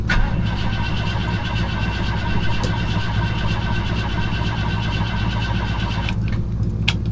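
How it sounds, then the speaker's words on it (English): A truck that has not been started in a couple of weeks cranks on a winter day with a steady, continuous churning drone that never catches, followed by a few faint clicks near the end. "Truck doesn't want to start."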